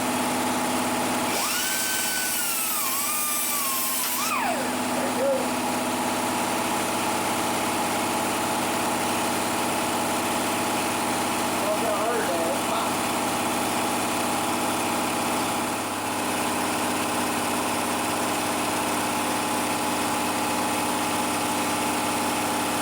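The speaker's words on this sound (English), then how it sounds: "Sorry about the compressor noise." An air compressor runs steadily in a garage during work on a trailing arm bushing, a constant motor drone with a brief louder whine near the start, continuing alone throughout.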